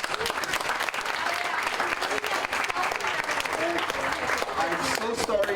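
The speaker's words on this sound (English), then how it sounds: "We're going to give you a round of applause." An audience claps steadily throughout for summer reading program award winners at a community assembly, a sustained, even wash of many hands with some voices mixed in.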